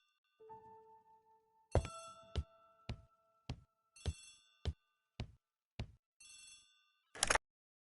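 A hallway telephone rings in short bright bell bursts mixed with sharp percussive clacks in a steady irregular rhythm, close and clear, with no voices.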